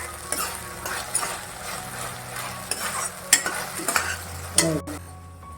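Cabbage manchurian is stir-fried on a high flame, a close steady sizzle with repeated metallic clinks and scrapes of a spatula against the pan, ending in a brief louder clatter before settling into a low hum.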